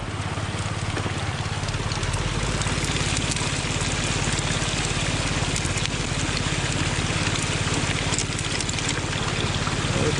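Water and dirt rush continuously through a gold sluice, a dense steady gushing and splashing with an engine or pump droning underneath, close and loud throughout.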